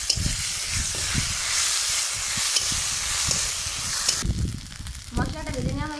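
Five-spice and pre-fried spice mix hit hot oil in a kadai while cooking a thin green banana curry, giving a loud, continuous sizzle and hiss that drops sharply toward the end, with a voice speaking faintly.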